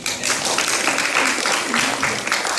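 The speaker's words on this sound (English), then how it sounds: "let's start her off with a clap" Audience clapping at a Janmashtami devotional performance, a dense steady wash of many hands applauding throughout, fairly loud and close, with no clear speech over it.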